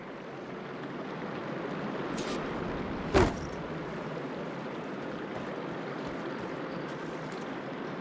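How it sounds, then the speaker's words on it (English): Running water inside a room in the video game Horizon Forbidden West, a steady close rushing flow with one brief sharp knock partway through, with no speech. "Aloy, I can hear water in the room again"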